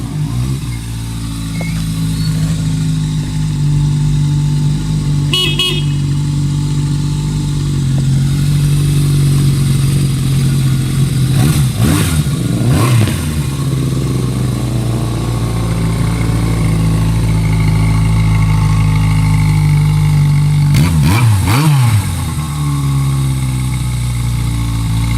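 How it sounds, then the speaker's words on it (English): A reconditioned 1979 Yamaha XS1100 Special motorcycle idles loudly and close, with a steady deep engine note and several brief revs rising and falling. "Classic 1979 Yamaha XS11 Special. Just been completely reconditioned."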